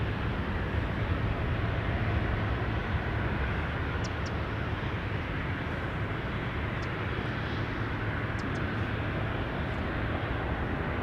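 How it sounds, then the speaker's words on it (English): A Qatar Cargo Boeing 777 freighter at Amsterdam Schiphol Airport gives off a loud, continuous jet engine roar that stays steady and broad throughout, close by and dominating the scene. "There it is, Qatar flight 8206, Qatar Cargo to Doha. That's a 777 freighter"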